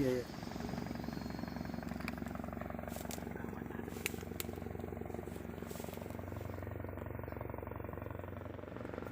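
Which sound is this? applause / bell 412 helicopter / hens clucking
bell 412 helicopter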